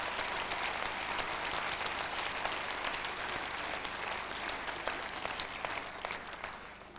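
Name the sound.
audience applauding children dancers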